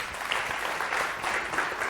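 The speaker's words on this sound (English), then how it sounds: "Big round of applause, Vivek Patel." An audience at a music performance show claps steadily, a dense even patter of applause that holds throughout.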